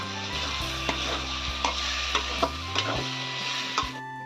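Katla fish head masala sautéing in a pan with salt and sugar, a steady sizzle broken by regular scraping and tapping strokes of the stirring spoon.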